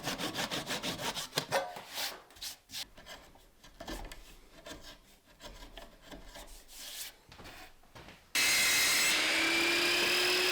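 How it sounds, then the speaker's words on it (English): A handsaw cuts protruding wooden wedge ends flush on a handmade chair, with irregular rasping strokes close up, followed by a sudden steady loud hiss at the end. "After the glue was set, I cut all the ends of the wedges and smoothed out the rest with the chisel."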